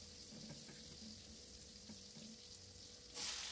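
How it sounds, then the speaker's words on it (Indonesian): Tofu and tempeh fry in hot oil for a second time, a steady close sizzle and crackle running throughout with no talk, ending in a louder bright hiss burst. "ini kita goreng tahu tempe untuk yang kedua kalinya"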